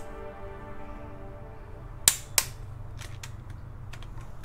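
A torque wrench tightens cylinder head bolts on an ABA engine to 44 foot-pounds, giving two sharp, close clicks about a third of a second apart, then a few fainter ticks against a low hum.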